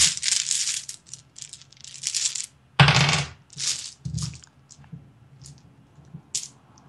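Dice being rolled during a tabletop role-playing game session: a run of clattering, rattling bursts of small hard objects tumbling and knocking on a surface, fairly close and separated by brief pauses.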